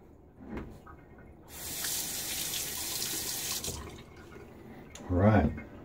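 Water runs from a tap to rinse a Timeless SS .68 open-comb razor, a steady hiss that starts, runs for a few seconds and stops, followed by a short clattering rinse close by.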